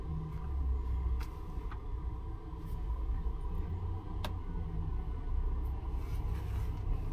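An R&L freight truck rolls past on the road, a steady low engine rumble and tire roar holding evenly throughout, broadband and fairly close, with no talk over it.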